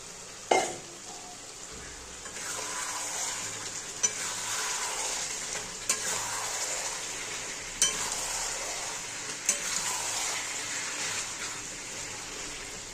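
Mutton with fried potatoes sizzles steadily in a pan for mutton kosha, soft and close, punctuated by about six sharp clinks of a spoon stirring against the metal.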